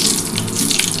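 Nigella seeds are tempered in hot oil as a base for a spicy potato and onion-stalk dish, giving off one brief burst of loud, dense sizzling hiss.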